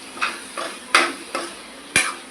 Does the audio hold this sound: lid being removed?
yes